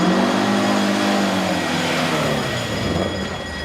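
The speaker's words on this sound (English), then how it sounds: "Car leaving the scene, heading west on Felden Road, green Ford Escort" A green Ford Escort drives off, its engine drone sliding down in pitch as it pulls away, loud and close at first, then fading slightly, with no voices over it.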